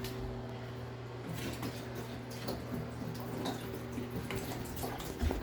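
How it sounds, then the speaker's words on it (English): Water splashes and trickles into a laundry-room sink, irregular pouring and dripping over a steady low appliance hum, fairly faint and close. "he's also pouring out the water in the sink"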